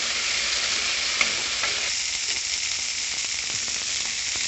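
Mint leaves fry with garlic cloves and spices in hot oil, a steady bright sizzle with occasional stirring clicks, close and continuous.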